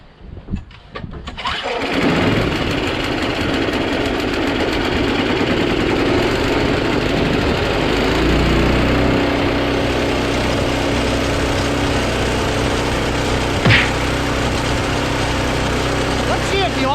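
A Yardman snowblower with an 8 HP Tecumseh Snow King engine and 26-inch auger fires up after priming and choking, then runs at full throttle with a loud, steady, rough mechanical roar close by.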